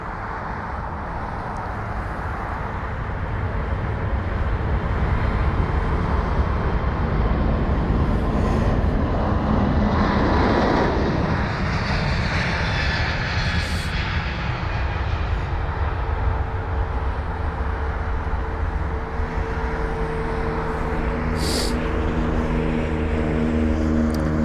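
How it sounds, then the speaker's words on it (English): A JetBlue Airbus A321neo jet roars past at London Heathrow, its engine noise swelling steadily and holding as a broad continuous rumble and whine for the whole stretch. "That's going to be a JetBlue A321neo with the reg November 4074 Juliet, heading to New York JFK."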